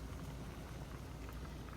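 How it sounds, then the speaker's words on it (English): Lentils simmering in a pot of salted water, giving a steady, dense bubbling and hissing boil that stays even and continuous throughout, with no voices. "I've added 2 cups of lentils to a pot of water with 2 teaspoons of salt, and I'm going to let that cook."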